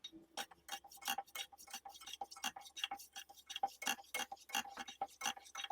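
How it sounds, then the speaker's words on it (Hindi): Metal spoon scraping and clinking against a pan while stirring chopped garlic in hot oil, a steady rhythm of sharp close taps and scrapes, fairly quiet with no talking. "लहसुन शामिल कर लेने के बाद मैं चम्मच चला लूंगी"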